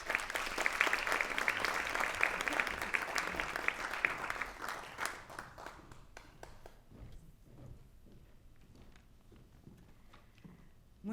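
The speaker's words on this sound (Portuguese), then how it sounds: "Uma salva de palmas, por favor." An audience in the Teatro da Trindade gives a round of applause, full and steady at first, then thinning to scattered claps as it dies away.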